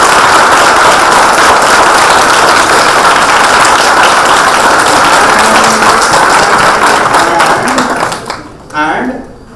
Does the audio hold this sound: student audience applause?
yes